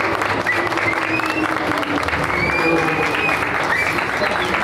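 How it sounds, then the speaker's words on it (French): An audience claps for a mother at a car gathering, a full, sustained round of applause with voices and cheers mixed in. "on peut applaudir la maman quand même"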